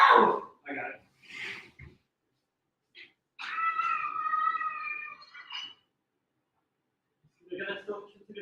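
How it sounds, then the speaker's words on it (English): Two cats fight, one letting out a drawn-out, wavering yowl in the middle, with shorter growls and cries around it. A person talks over the scuffle at the start and end. "Well, then get that other cat out of here."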